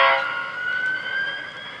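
An HO scale Athearn Genesis FP45 Warbonnet locomotive with DCC sound gives a loud, sustained horn-like tone that slides slightly in pitch and holds steady for nearly two seconds, with no talking.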